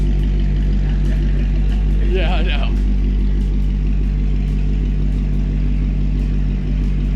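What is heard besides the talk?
McLaren 720S car exhaust and engine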